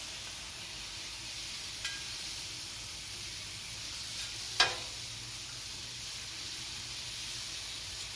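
Thin-cut carne piccata beef sizzles steadily on a hibachi grill, a constant close hiss of frying broken by a couple of sharp clinks or pops.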